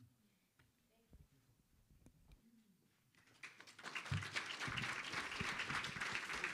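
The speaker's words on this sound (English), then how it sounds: "Big round of applause for our faculty members, Porsha Olayiwola, Oliver de la Paz, and Pal" Applause from an audience at a faculty poetry reading rises after a quieter stretch of scattered sounds, swelling into steady, fairly faint clapping that continues to the end.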